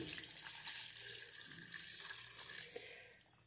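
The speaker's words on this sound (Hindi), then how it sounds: "और अब हम इसके अंदर 1 गिलास पानी ऐड कर देंगे।" A glass of water poured into a pressure cooker holding mutton, spinach and turnip for a home-style curry: a steady, close splashing and trickling of liquid for a few seconds, with no talk over it.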